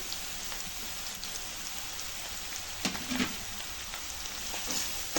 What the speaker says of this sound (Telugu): బాగా వేయించాలండి